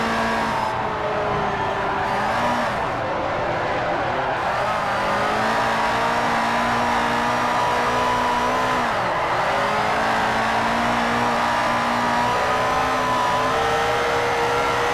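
A rear-wheel-drive racing car of roughly 600 horsepower drifts around Fujimi in Forza 4, its engine revving loud and steady throughout, with pitch swoops and rising wails as it slides, accompanied by tire squeal.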